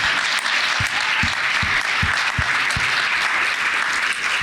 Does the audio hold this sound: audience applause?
yes